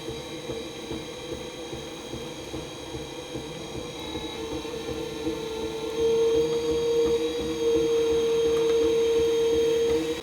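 An inexpensive electric pottery wheel runs steadily, a continuous motor hum and whine that rises slightly in pitch and loudness partway through, alone without talking.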